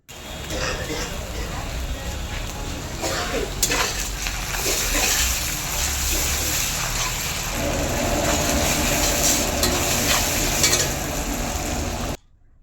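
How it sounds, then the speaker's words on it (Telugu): Boiled cluster beans tossed into a hot kadai, making a loud continuous sizzle with scraping stirs and occasional clinks, and a voice talking over it throughout before the sound cuts off at the end. "నెక్స్ట్ ఉడికించి పక్కకు పెట్టిన గోరుచిక్కుడుకాయలను కూడా కడాయిలో వేసుకోవాలి."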